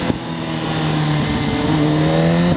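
A 2015 BMW S1000RR motorcycle engine revs hard and steadily, its pitch rising and dropping through quick auto-blipper gear shifts, loud and close throughout with no talking.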